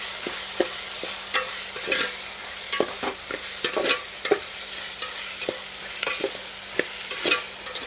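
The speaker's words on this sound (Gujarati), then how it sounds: "હાલો મિક્સિંગ કરી નાખીએ આપણે હવે।" Coriander-cumin powder and turmeric stirred in a pan with potatoes, onion, chilli and tomato, a spoon scraping in steady irregular strokes over a soft continuous sizzle, close and alone with no voices.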